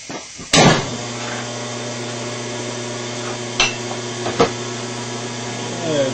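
A phase converter powers a Bridgeport milling machine in a workshop, producing a steady mechanical hum with a constant tonal drone, punctuated by a few sharp clicks and clunks; no talking.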